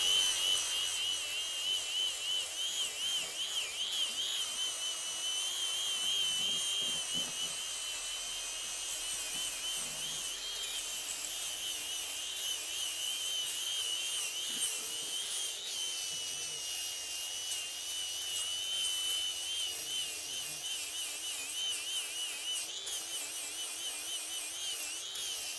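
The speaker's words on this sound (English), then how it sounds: "we're gonna use just a grinder like this with a sanding disc" Angle grinder fitted with a coarse flap sanding disc working over log cabin exterior window trim, a steady high-pitched whine and grinding hiss running continuously throughout at close range, no talking.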